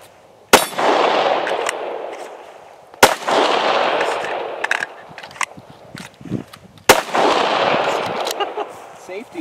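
Beretta pistol fired during defensive shooting practice, three sharp loud shots spaced a few seconds apart, each ringing out with a metallic clang and echo before fading.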